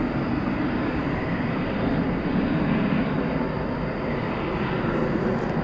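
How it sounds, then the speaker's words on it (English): Airbus A300 airliner being pushed back at DFW, a steady, dense engine and ground-equipment roar filling the scene, constant and fairly loud with no talk. "How about some A300 action? Now being pushed back."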